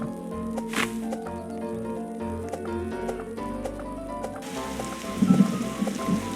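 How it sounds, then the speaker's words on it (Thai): Rain and rolling thunder in a Roblox survival game, a steady patter of rain over a layered game soundtrack, with a louder rumbling burst near the end. "ฝนตกฟ้าร้อง"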